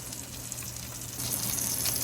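Rainbow trout fries in a pan, a steady, fairly quiet sizzle and crackle of hot oil that swells slightly louder partway through, with no voices.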